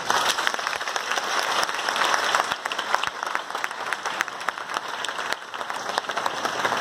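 A large audience claps loudly and steadily after a product presentation for Vestige consumables, a thick, unbroken wash of applause with sharp individual claps standing out close by.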